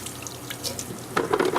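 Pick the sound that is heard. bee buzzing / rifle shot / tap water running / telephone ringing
tap water running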